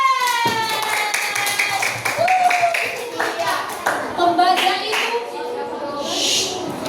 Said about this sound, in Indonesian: Tepuk tangan untuk Iben.